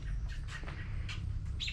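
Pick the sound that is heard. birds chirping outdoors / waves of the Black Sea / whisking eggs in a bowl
birds chirping outdoors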